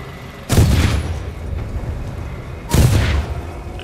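Two heavy explosions boom in the Titanfall 2 single-player campaign, about two seconds apart, each a loud broadband blast that decays into a lingering rumble.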